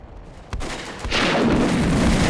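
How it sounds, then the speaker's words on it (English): An artillery barrage in the Combat Mission wargame sets off a sudden boom followed by a dense, loud roar of overlapping blasts and rumble that fills the short moment. "let's see what happens with the barrage now happening"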